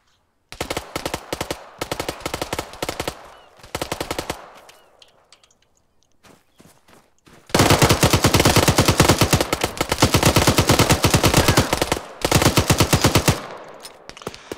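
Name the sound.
machine gun fire in a video game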